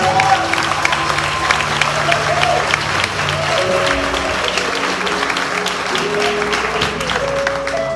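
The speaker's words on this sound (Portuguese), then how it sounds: "Aplauda o Senhor bem forte." A church congregation claps loudly and steadily for several seconds, with a few cheers and sustained musical tones underneath.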